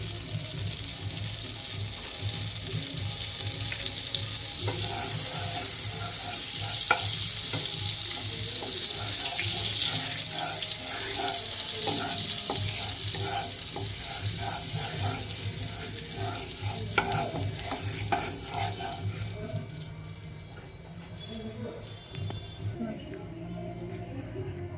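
Oil and butter heat together in a pan for restaurant-style chicken tandoori, giving a steady, close hiss that runs unbroken and eases slightly toward the end.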